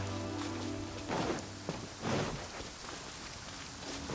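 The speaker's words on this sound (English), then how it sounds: "Taking a stroll in the middle of a downpour certainly rouses the spirit." Steady rainfall in the Genshin Impact video game, a dense even downpour pattering throughout with a few louder splashy swells, heard alone without any voices.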